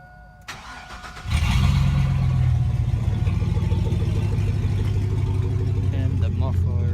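A pickup truck engine starts up and settles into a loud, steady idle with a deep low rumble close by, a voice talking faintly underneath.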